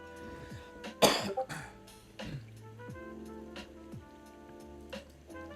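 A single sharp cough followed by a couple of smaller throat sounds, over a quiet background hum.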